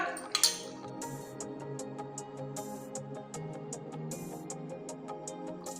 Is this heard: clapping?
no